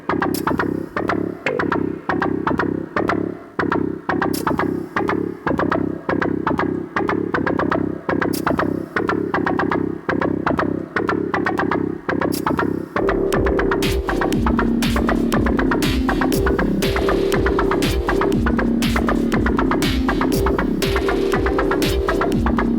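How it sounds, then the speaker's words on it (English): Grimy electronic drum loop run through an intense flanger, steady repeating beat with a sweeping metallic whoosh; partway through the pattern thickens into a denser, continuous hum-laden groove with a sustained tone, loud and alone. "Make the flange a little more intense."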